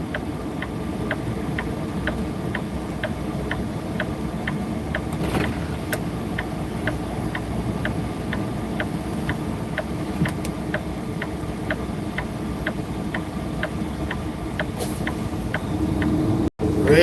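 Steady low rumble of a red 18-wheeler truck and trailer, 34,000 pounds, idling or running close by, with a faint regular ticking over the continuous drone and no talk.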